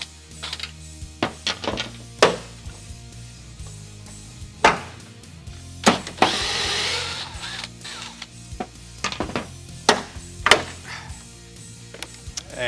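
Bolts being removed from the bed of a Toyota Tacoma pickup, a series of sharp, close metallic thunks and clicks at irregular intervals, with a longer burst of ratchet or impact tool noise in the middle and no talking.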